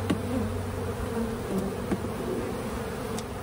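Honeybees swarm around an open hive, a dense continuous drone of many wings close to the microphone, with a few individual bees zipping past, steady throughout and free of talk.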